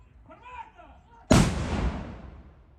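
A Soviet-made Gvozdika self-propelled howitzer fires a single shot, a sudden loud blast with a long rumbling decay, after brief shouted commands.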